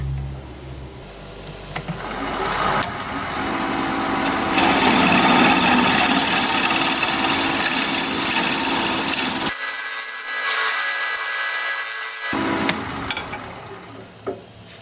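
Wood bowl being scraped on a lathe, turned from an unidentified wood: a steady, rough rasping scrape of the tool against the spinning wood, close and continuous, briefly dropping off in the middle before resuming.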